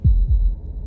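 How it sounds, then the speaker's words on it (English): Heartbeat sound effect in an indie video game: two deep, close thumps in a quick lub-dub pair, loud and low, fading into a faint hum. "That was the sound of a heartbeat,"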